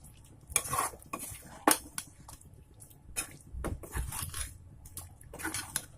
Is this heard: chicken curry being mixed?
yes